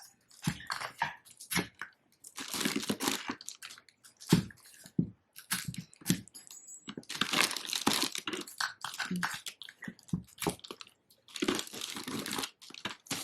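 Wrapping paper crinkles and rustles continuously as a present is folded and rolled, loud and close with dense irregular crackling bursts and brief pauses.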